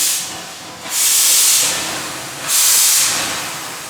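Steam hissing from a steam car clearing its cylinders, two loud broad bursts of hiss, each swelling then tapering off, with no voices.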